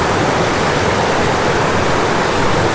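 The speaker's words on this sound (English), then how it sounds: "River's in spate." A river in spate in the Monadhliath mountains, a loud, steady roar of rushing water that fills the whole moment with dense, unbroken noise and no voices.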